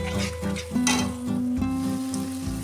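Spice paste for tilapia curry frying steadily in a pan, a continuous close sizzle with soft stirring scrapes running throughout and no voices.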